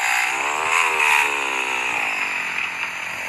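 Small Honda-style Horizon 170 motorcycle engine revs hard indoors in a kitchen, a loud, buzzy whine with steady harmonic pitch sweeping up and down through the gears, close and continuous with no talking.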